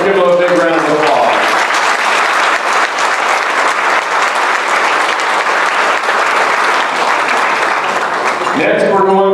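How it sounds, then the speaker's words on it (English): Loud, dense applause from a banquet audience at a skeet shooting association dinner, sustained evenly for about nine seconds, with a voice speaking briefly at the start and end. "let's give them a big round of applause."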